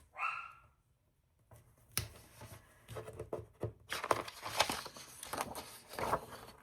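A dog barks repeatedly in the background, a string of sharp, uneven barks that grows busier and louder toward the end.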